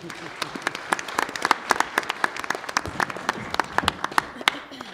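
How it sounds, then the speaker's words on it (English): A small audience at a Vicksburg Community Schools board meeting claps for a staff member, with scattered, uneven hand claps close by that run irregularly for several seconds. "So, big round of applause for Chelsea."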